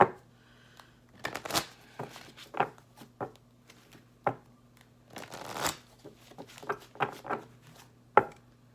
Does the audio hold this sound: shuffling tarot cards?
yes